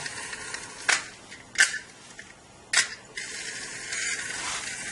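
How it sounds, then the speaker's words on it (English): Small Cubelets modular robot motor turning in place without moving, heard as a faint mechanical whir with three sharp ratcheting clicks spaced about a second apart, then a steadier hiss of gearing toward the end. "So you can hear the motor turning, but it won't go anywhere."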